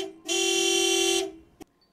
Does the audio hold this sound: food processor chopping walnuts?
no